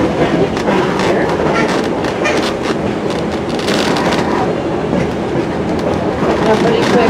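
Heritage 1880 Train rolling on rails, a loud continuous rumble with rhythmic clickety-clack of wheels over rail joints, close and steady throughout, with no talk.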